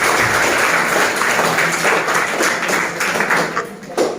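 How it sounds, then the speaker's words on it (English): Classmates clap for a student in a classroom, a loud, close, continuous patter of many hands with a few sharper taps near the end. "Okay, clap for him."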